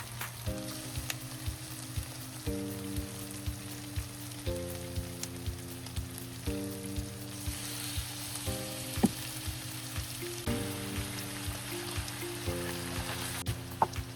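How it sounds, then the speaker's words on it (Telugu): Chicken pieces fry in hot oil with fried onions, Andhra-style curry, producing a continuous close sizzle with scattered pops and crackles, while a soft repeating musical tone plays in the background and no one speaks. "ఫ్రై అయిందండి, చికెన్ వేస్తున్నాను ఇందులో"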